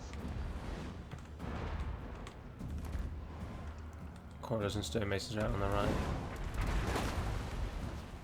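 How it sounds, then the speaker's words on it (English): Cannon and mortar fire in Total War: Warhammer II sounds as dull, distant booms and thuds scattered beneath steady spoken commentary. "Cannons are getting involved there."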